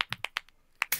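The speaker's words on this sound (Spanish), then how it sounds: "Aplausos para Aldo" A few sparse, sharp claps from a small family group, quiet and uneven, scattered individual hand claps with a short pause in the middle.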